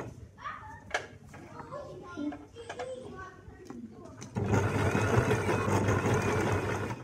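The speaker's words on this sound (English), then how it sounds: "Slow and steady sewing." A sewing machine stitching fabric starts up partway through, running steadily and fairly close after a stretch of quieter room sounds with a voice nearby.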